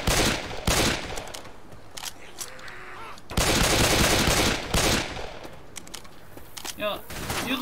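Gunfire in Left 4 Dead 2: bursts of rapid shots and scattered single rounds, loud and close, with a heavy volley in the middle and people talking over the game noise.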